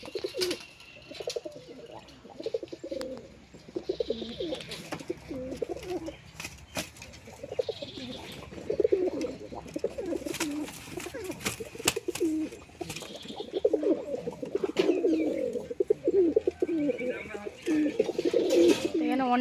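Pigeons cooing steadily at a home loft, a soft repeated low cooing that continues throughout with occasional wing flaps and chirps, while a person talks over it.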